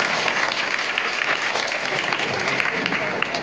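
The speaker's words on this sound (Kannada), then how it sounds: "ಅವರಿಗೆ ಜೋರಾಗಿ ಚಪ್ಪಾಳೆ ತಟ್ಟಬೇಕು." Loud, steady applause from an audience at a monastery's anniversary and commemoration gathering, dense clapping filling the whole few seconds without a break.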